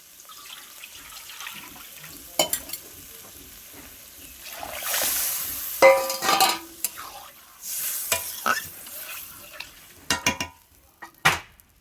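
Vegetables and water are added to dal in a pan, giving intermittent splashes, pouring and stirring scrapes over a soft sizzle, close by with uneven bursts of activity.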